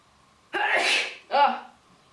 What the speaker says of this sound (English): Such a violent sneeze.